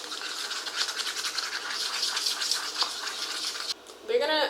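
Hair oil being stirred in a small container, a close, continuous swishing and scraping that runs for several seconds before a brief pause and a voice.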